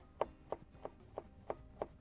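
An onion being chopped with a knife on a board, six evenly spaced crisp knocks in quick succession, close and clear with no talking.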